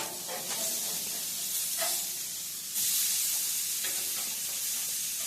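Smash burger patties sizzle steadily in a pan, a continuous bright frying hiss swelling louder as they are flipped and pressed down, with a few faint scrapes, no voices.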